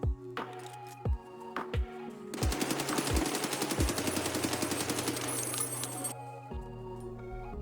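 An AKS-74U budget build fires in the video game Escape from Tarkov. A few single shots come first, then a sustained automatic burst of several seconds, then more single shots, all loud and close with no talk.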